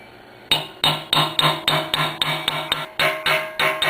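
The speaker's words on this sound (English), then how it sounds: "I'll drive with a hammer, I'll pound on this post and drive that in all the way" A steel bearing race is driven into the steering head of a Yamaha CT175 motorcycle, the hammer pounding on a post in about ten loud, bright metallic clinks with short rings between blows.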